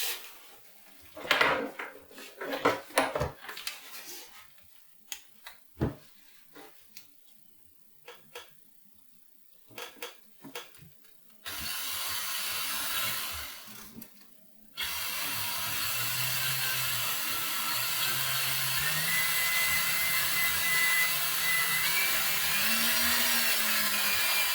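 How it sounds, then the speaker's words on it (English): Scattered knocks and clatter give way to a steady whirring drill boring through the side of an acoustic guitar for a soundport, running continuously for several seconds, then a louder sustained drilling noise until the end. "I'm going to go ahead and drill this hole straight through the side"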